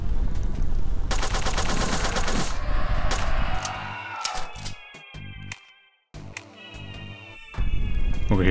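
Gunfire from the video game Revenance, with rapid repeated shotgun blasts forming a loud, dense volley that thins into scattered shots and a brief gap before resuming.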